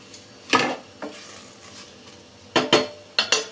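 Moroccan rfissa ingredients sizzling in a pot while a utensil stirs, with a few loud clanking scrapes against the metal over a low steady hiss; no talking.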